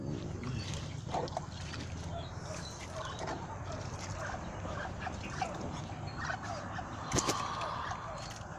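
A flock of ducks quacks and chatters close by outdoors at feeding time, overlapping calls over a busy background with occasional louder honks.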